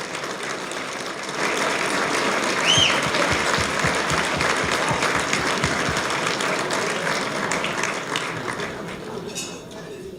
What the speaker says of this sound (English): MGA committee people, please stand for a round of applause.